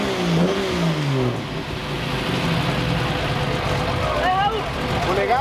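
A four-cylinder car engine with triple Weber carburetors revs up and settles at a car meet in São Paulo, giving a throaty rising and falling drone with sharp blips near the end, while people talk nearby.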